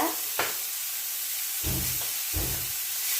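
Green beans sizzle steadily in hot oil in a pan while a Kerala-style vegetable stir-fry is being cooked, with a constant frying hiss and two short bursts of louder crackling as the beans are stirred.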